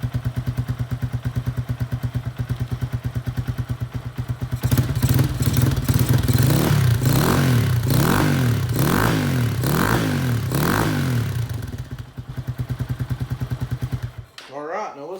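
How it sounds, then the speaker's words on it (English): A motorcycle with a KP Mini aftermarket exhaust, baffle in, idles with a steady deep exhaust rumble, then revs up repeatedly in several rising and falling blips before settling back to idle. "we got the KP Mini exhaust all bolted up, so let's see what she sounds like with the baffle in"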